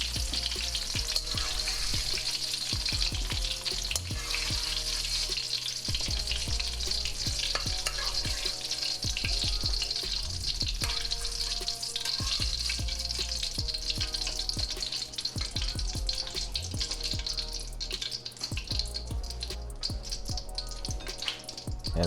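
Baby corn frying in a pan of oil for a stir fry, with a loud, dense, continuous sizzle and crackle dotted with rapid popping and occasional stirring clatter, close and steady throughout, with no talk.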